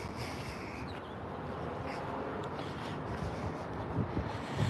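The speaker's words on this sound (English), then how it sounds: "I know it's really windy, guys. I'm trying to avoid the wind" Steady wind buffets the microphone while walking outdoors at a theme park, a low rumbling roar that swells slightly toward the end.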